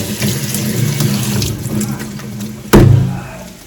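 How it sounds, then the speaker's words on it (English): Tap water runs steadily into a kitchen sink while canned food is rinsed until the water comes out clear. A louder splash or gush near the end rises over the constant flow, with no talk. "So you want to rinse them until it comes out clear."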